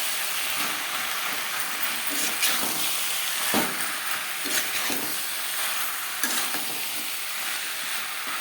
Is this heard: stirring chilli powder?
yes